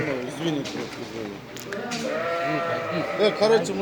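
A large-horned goat in Kyrgyzstan gives several wavering bleats nearby, mixed with people talking throughout.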